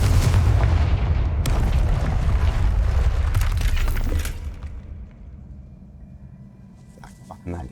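A Confringo explosive spell goes off in Hogwarts Legacy as a loud, rumbling blast with crackling debris that holds for about four seconds and then fades to a quieter tail.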